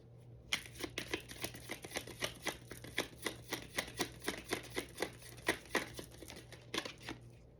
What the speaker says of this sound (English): I'm going to pull 2 oracle cards.